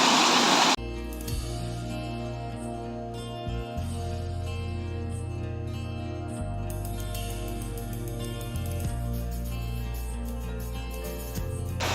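A mountain stream flows in a hill village, its steady broadband rush filling the scene continuously at close range, with a faint low hum beneath and no talk.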